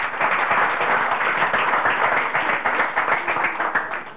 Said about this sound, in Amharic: እስኪ ጭብጨባችሁን።